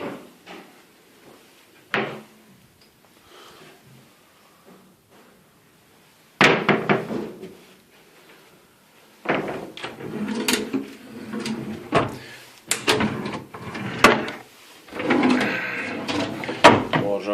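Wardrobe doors in an empty room open and close, producing scattered wooden knocks and clunks, with busier bursts of rattling and thudding later, nearby and fairly loud.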